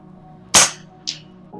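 A Barra 250z air rifle fires once at a target 100 yards out, a sharp, loud crack followed a half second later by a fainter distant snap of the impact, outdoors.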